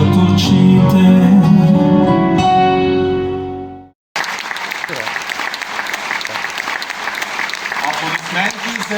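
A song performed at a televised stage show in Burgas, Bulgaria, fades out, and after a brief silence a large audience breaks into steady, dense applause that continues at full strength.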